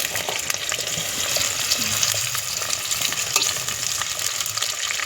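Sliced onion fries with tomato and chilli for a chicken biryani cooked over a wood-fired chulha, producing a continuous dense sizzle with faint stirring movement.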